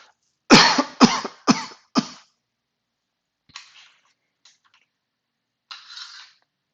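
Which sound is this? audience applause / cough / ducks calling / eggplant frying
cough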